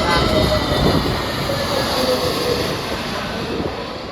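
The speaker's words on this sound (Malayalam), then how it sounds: "നമ്മളതാ മൂന്നാമത്തെ ഫ്ലൈറ്റും വരാൻ പോകുന്നുണ്ട്, അടുത്തെത്തി." A Gulf Air passenger plane comes in to land in Bahrain, its engines a loud, steady, close broadband roar that holds throughout.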